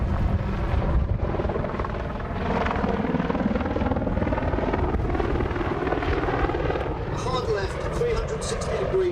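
An Apache attack helicopter, a 10-ton gunship, roars close by at an air show flying display with a steady, throbbing rotor drone, loud and continuous, while someone talks over it.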